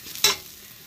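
Boiled, broken-up potatoes go into a pan of sizzling fried ginger-garlic paste for potato chops, making a brief loud sizzle-and-stir burst that fades quickly into a low fry.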